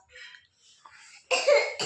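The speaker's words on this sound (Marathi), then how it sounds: "आज आयला काय नुसतं येतो खोकला येतो" Two harsh, close coughs burst out near the end, the second shorter, following a stretch of quiet, indistinct murmuring.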